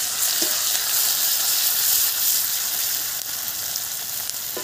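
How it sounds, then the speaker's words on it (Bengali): Onion frying in hot oil in a pan for a homestyle Bengali fish curry, a steady dense sizzle and crackle that holds evenly throughout, fairly loud and close with no voices. "এটা তেল গরম হয়ে গেছে, পেঁয়াজটা দিয়ে দিচ্ছি।"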